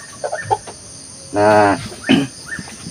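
A three-month-old Belgian Aseel stag, a young rooster, gives one short, raspy crowing call in the middle, close and loud. Softer clucks and chirps come before and after it, over faint background insect buzzing.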